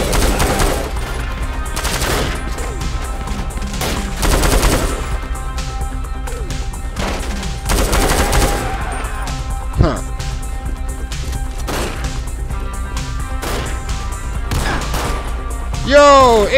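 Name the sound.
gunfire and headshots in video game GTA V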